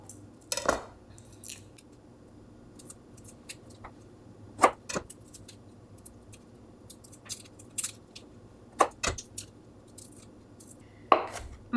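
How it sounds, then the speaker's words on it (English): A knife chops garlic on a cutting board in scattered, crisp taps, close by, with quiet pauses between bursts. "I'm chopping the garlic now,"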